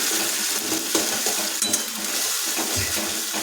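Spice paste hits hot oil for a dai katla fish curry, giving a loud, steady sizzle with spitting crackles and light clinks of a spoon in the pan.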